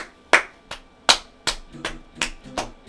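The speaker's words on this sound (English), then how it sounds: "Please, save the claps for later" A few hand claps, crisp and close, irregularly spaced with short pauses between, some louder than others, alone without talk.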